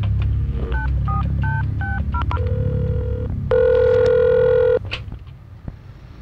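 Telephone keypad tones beep in a quick series of about seven presses, then a long, steady ringing tone sounds alone over a low background rumble before fading into faint noise.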